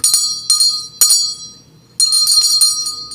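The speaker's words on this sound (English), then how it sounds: "this bell is very nice, actually" Decorative bell rung indoors in a bedroom, bright metallic rings struck in a quick rhythm, several strikes close by with a short pause before another burst of ringing.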